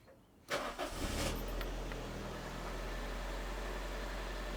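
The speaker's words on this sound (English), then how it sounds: "I got the exhaust patched so it doesn't sound like it's a very cheap car." A car with a patched exhaust cranks and fires, then settles into a steady low idle with a constant deep rumble close by and no talking.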